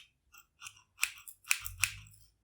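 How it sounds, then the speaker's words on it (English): Freshly sharpened scissors snip shut several times in a row, crisp metallic blade closures ringing close and clear in a quiet room with no voices. "That little burr is going to fall off when you bring your scissors together."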